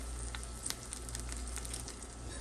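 Burrito toasting in a hot pan, a steady, quiet sizzle and crackle with a few small pops, continuous and close, without talking.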